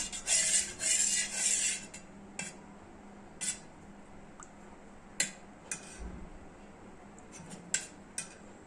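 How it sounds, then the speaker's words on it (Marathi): A spoon stirs sugar into a mango panha drink. A loud burst of clinking and swirling opens, then sharp metallic taps against the vessel come every second or so at close range. "साखर टाकल्यानंतर मिक्स करून घ्यायचं।"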